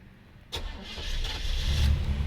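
A 1989 Chevrolet Caprice Classic Brougham engine cranks and catches after a half-second pause, then settles into a steady, fairly loud idle close by.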